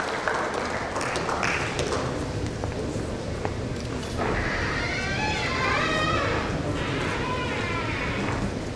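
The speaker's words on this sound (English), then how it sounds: "A big round of applause, ladies and gentlemen" Audience applause at a banking panel discussion, broad steady clapping spread across the room at moderate distance, continuing for several seconds with some talk underneath.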